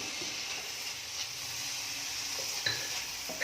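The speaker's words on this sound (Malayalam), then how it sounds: "നന്നായിട്ട് ഇളക്കി കൊടുക്കുക." Chopped onion, ginger, garlic and green chilli stirred in a pan, a soft steady sizzle with a few light scrapes of the spoon near the end. No one talks.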